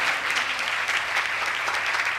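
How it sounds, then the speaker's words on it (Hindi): A church congregation claps hands during a Pentecost sermon, a dense, continuous burst of applause from many people close by with no talk over it. "ए उम्मतो तालियां बजाओ।"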